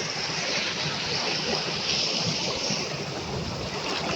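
A village river flows in a steady, broad rush of water, continuous and fairly close, with some wind.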